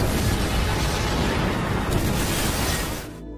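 A loud, roaring oil well explosion filling the whole clip with dense rumbling noise, fading abruptly near the end.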